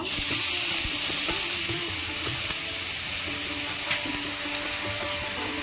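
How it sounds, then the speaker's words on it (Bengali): A steady bubbling sizzle as water boils in a hot pan with a potato kulcha cooking without oil, continuous throughout with occasional faint clinks and scrapes, close by and moderately loud. "জল ফুটছে"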